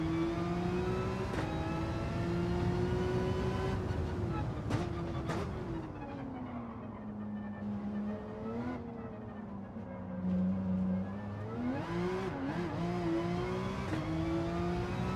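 A race car engine in a Gran Turismo racing game whines steadily, its pitch rising and falling through gear changes and revs over fifteen seconds, with a voice talking faintly underneath.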